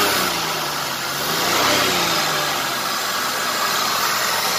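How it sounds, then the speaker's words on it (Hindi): A car engine, just repaired, runs at a steady idle with a dense, even rumble and hiss that holds from start to finish without voices. "तो आपने देख ली गाड़ी स्टार्ट हो गई काफी मशक्कत के बाद"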